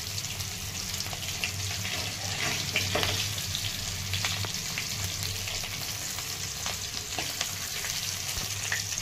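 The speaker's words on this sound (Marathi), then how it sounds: "पाणी न टाकता दोन्ही बाजूने अशी छान परतून घ्यायची मिरची" Capsicum peppers sauté in a dry pan with no water added, giving a steady, faint sizzle that carries on without pause.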